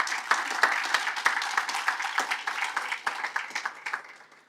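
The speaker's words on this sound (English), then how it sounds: "Can you have another round of applause?" Attendees at a drugs commission summit in Nairobi give a round of applause, distinct claps standing out from the steady clapping before it gradually tapers off.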